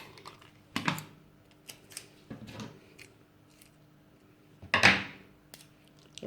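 Scotch tape pulled and pressed down onto paper over a sewing pattern block, giving scattered close taps, rustles and one louder tearing rip, all fairly soft.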